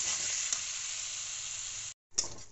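Spiced masala of Kashmiri chilli powder sizzles steadily in a pan for an omelette curry, a close, continuous frying hiss that cuts out briefly near the end before resuming.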